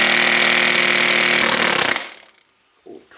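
A cordless impact gun rated at 700 foot-pounds hammers hard on the crankshaft pulley fastener of an Acura V6, a loud, continuous rattling burst of about two seconds that cuts off, followed by a faint short knock.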